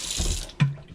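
Water pouring into the tank of an AquaOasis mist humidifier, a brief splashy rush followed by a short gurgling plop, close and moderately loud, with no talking.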